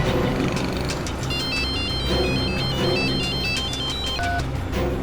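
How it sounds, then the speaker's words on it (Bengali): A phone ringtone plays while a call is being placed in a CID police drama, a bright electronic melody repeating its short pattern over a dense background of music for about five seconds. "আমি এক্ষুনি ফ্রেডরিক্সকে ফোন করে জিজ্ঞেস করছি।"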